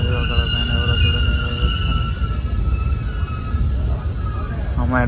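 A passenger train on the Renigunta to Visakhapatnam run rumbles and clatters steadily as it slows, with faint wheel squeal and a brief rising squeal near the end, while voices talk nearby.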